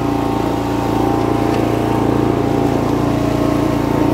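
A Snapper rear-engine riding mower drives forward, its small engine putting out a steady, loud, close drone with an even pulsing throb and no voices over it.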